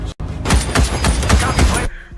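Dense, rapid gunfire from a war movie, with overlapping shots and booming impacts in a loud, continuous volley that stops abruptly near the end.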